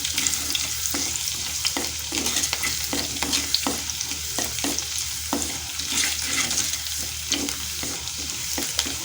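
Ginger and garlic with fenugreek fry in hot oil as a spoon stirs them through the pan, a steady close sizzle broken by regular scraping strokes, with no talking.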